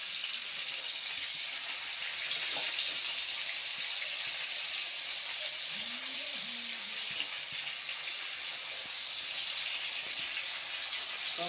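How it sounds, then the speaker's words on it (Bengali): Mango pieces for a pickle sautéing in hot oil, a steady soft sizzle and hiss running continuously throughout at low level, with a faint squeak partway through. "আমগুলো এখন কষছি"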